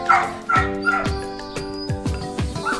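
Shelter dogs, including a puppy, bark and yip repeatedly in short bursts, with whimpering between, fairly close against a constant tonal hum.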